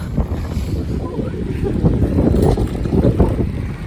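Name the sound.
wind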